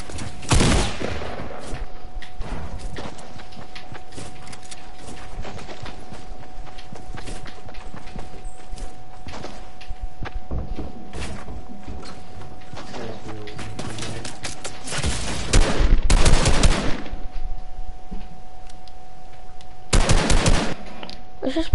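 Pistol and shotgun fire in an arena video game tournament rattles in dense, sharp bursts throughout, with louder clustered volleys near the end.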